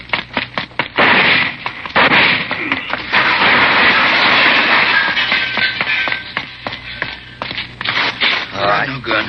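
Several sharp gunshots ring out in an old-time 1952 radio crime drama, with bursts of firing and action noise mixed among voices of the actors.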